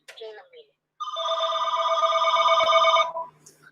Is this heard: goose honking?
no